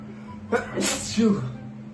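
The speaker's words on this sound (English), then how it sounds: "I have my fan on, it's causing me to sneeze" A single sharp human sneeze, close and fairly loud, with a quick inhale before the burst over a steady fan hum, then a second breathy burst.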